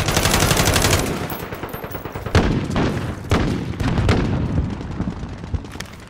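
Rapid gunfire in the video game Call of Duty: Modern Warfare, with dense automatic bursts and sharp single shots, loud and close, mixed with a few heavier booms.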